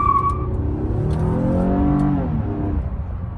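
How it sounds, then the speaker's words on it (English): A 2014 Toyota Avalon accelerates at full throttle, its engine note rising steadily in pitch and loudness from inside the cabin, then easing off near the end. "I'm gonna floor it here."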